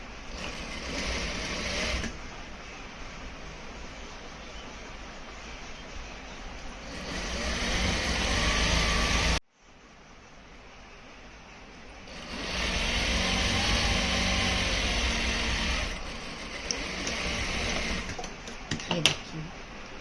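A sewing machine runs in bursts while stitching a ladies' pant pocket, its motor whirring loudly for several seconds, stopping, then starting again, with a person talking at times between runs.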